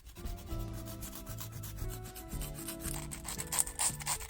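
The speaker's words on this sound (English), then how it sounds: "I'm going to lightly file the tips and the sides." A nail file lightly works over the tips and sides of gel nails, giving soft, repeated rasping strokes that sit under steady background music.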